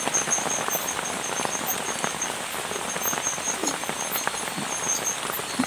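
Heavy rain pours down steadily on a campsite at dinnertime, a dense, continuous patter with sharp individual drops spattering close by, no voices over it.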